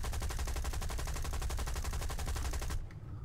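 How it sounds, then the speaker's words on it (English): Rapid machine-gun fire from an aircraft in a video game, a loud steady stream of evenly spaced shots lasting nearly three seconds before cutting off abruptly. "I'll stop shooting when you get close."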